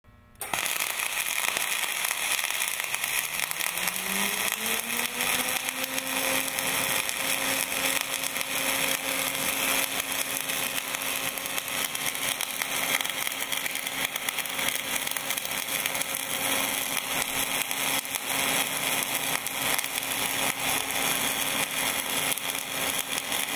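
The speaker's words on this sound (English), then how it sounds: "Start a continuous weld." A Bug-O Systems K-Bug 1000 carriage runs a continuous weld, its drive motor winding up to a steady hum beneath a loud, unbroken crackling hiss that holds evenly for the whole stretch.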